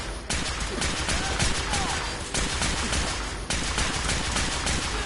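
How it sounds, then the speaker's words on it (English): Dense, continuous gunfire from enemies in the video game Fallout 4, loud and close, with rapid overlapping shots forming a sustained barrage that briefly dips twice before resuming. "I knew there was somebody shooting at me from over here."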